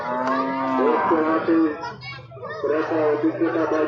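Cattle moo loudly and repeatedly at a cattle market, two close bellowing calls from a very large cow separated by a short pause, with voices murmuring in the background.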